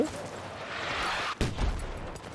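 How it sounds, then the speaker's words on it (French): A large explosion from a ship bombardment in Battlefield 6 rolls in as a broad distant rumble, then a sharp sudden blast that decays into low debris noise. "Il y a eu une grosse explosion."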